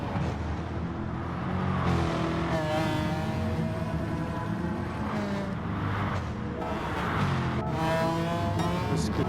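Race cars in GT Sport roar through a lap, engines revving and shifting with tire squeal and cars passing close by, loud and continuous with no talking.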